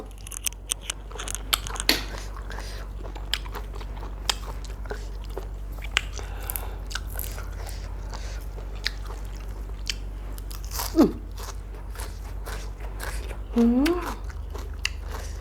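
Crunching and chewing of sweet Babylonia sea snails, close up, with repeated bites and crunches through the clip and a brief louder burst near the end.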